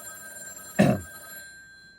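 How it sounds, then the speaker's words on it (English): A telephone bell rings once in a short, fairly loud burst that fades quickly, heard alone in a quiet room during an algebra lesson. "Sorry about the phone ringing."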